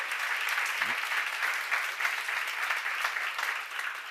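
A church congregation at a seminar claps steadily, a dense, even wash of applause that carries on without a break.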